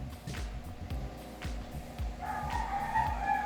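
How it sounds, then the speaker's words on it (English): Chickens cluck and squawk in the background, joined toward the end by a sustained rooster-like call over a low rumble. "the chickens are noisy again"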